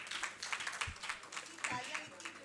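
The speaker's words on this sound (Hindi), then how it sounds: "सुमन सोनी जी के लिए जोरदार तालियां।" Applause at a university convocation ceremony in New Delhi, a crowd clapping in uneven bursts, fairly faint and somewhat distant, with a few sharper claps standing out.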